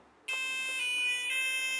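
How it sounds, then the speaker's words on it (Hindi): A micro:bit ultrasonic sensor car reversing alarm starts abruptly and holds a continuous, shrill electronic buzzing tone with slight pulsing, sounding alone at moderate volume. "हमारा जो अलार्म है वो भी बज रहा है"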